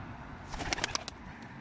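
A few quick, bright pigeon calls or wing flutters come in a short cluster against a low background hum, then it goes quiet again.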